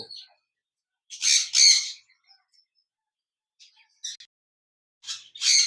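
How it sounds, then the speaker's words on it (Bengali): A pair of caged birds at a bird sale give short raspy calls in three separate bursts, the first loud and doubled, the later ones briefer, with silence between them and no talk. "এখানে দেখতে পাচ্ছেন একজোড়া পোকাটের পাখি রয়েছে"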